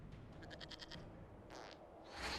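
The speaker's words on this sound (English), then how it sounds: "A goat." A goat in the Dragon Age: Inquisition game gives a short series of rapid, bleating pulses, then a second brief bleat, over a low rumbling background.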